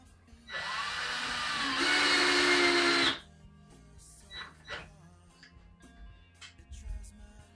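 A power drill drives a flooring screw into a microwave mounting bracket in one loud burst of about three seconds, its whine rising in pitch, followed by quieter clicks and handling noises nearby.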